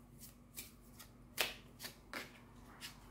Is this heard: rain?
no